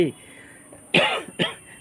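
A couple of short, sharp coughs close to the microphone, separated by a brief pause, with a bit of voice at the start.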